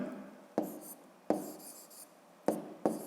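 Pen writing on paper during a fifth-grade geometry exercise, soft scratchy strokes broken by several sharp taps as the pen touches down, close and quiet with no talking.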